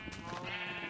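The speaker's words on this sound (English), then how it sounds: "Got plenty of sheep." A single sheep in Minecraft gives one short wavering bleat, close and clear, with no talk over it.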